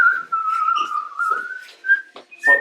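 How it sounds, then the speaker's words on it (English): A person whistles a wavering tune close by, a long sustained note sliding in pitch followed by several shorter chirped notes, clear and loud with no talking. "What's with the whistling? The whistling is unsettling."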